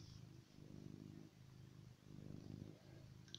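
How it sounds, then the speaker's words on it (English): Grey Persian cat purring close and quiet, a soft rumbling purr pulsing in slow even cycles of inhale and exhale. "very wide, very loud purring"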